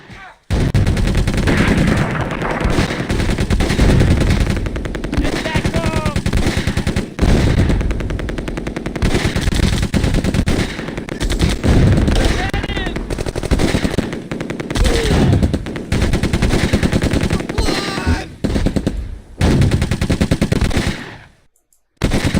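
Dense, loud gunfire from the World War II tactics game Close Combat rattles almost without pause, with machine-gun bursts and single rifle shots overlapping, and a voice murmurs faintly underneath.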